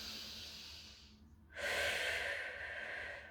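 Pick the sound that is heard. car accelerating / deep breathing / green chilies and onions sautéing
deep breathing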